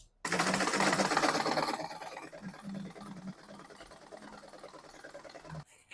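A sewing machine runs steadily as it stitches gathers into gown fabric for a three-tier gown, loud at first and then settling into a quieter, even mechanical whir with a fast repeating stitch rhythm, heard alone.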